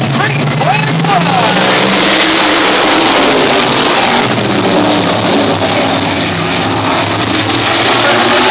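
ISMA supermodified race cars at Sandusky Speedway accelerate as a loud, continuous engine roar that fills the whole stretch and stays steady and close throughout.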